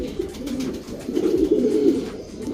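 Soft, low cooing of a 10-year-old pigeon rolls on steadily throughout, a continuous murmuring coo close by with no talking.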